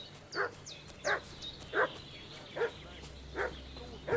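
A dog in Kingdom Come Deliverance 2 barks six times at an even, unhurried pace, each bark moderately loud and mid-distance over a low ambient game hum.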